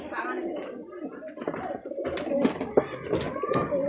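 Kalpora pigeons coo in low, throaty bursts amid a busy background, with people talking nearby over the birds.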